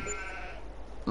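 A sheep bleats in the Farming Simulator 22 video game, a steady drawn-out bleat at moderate volume that ends as a louder sound cuts in.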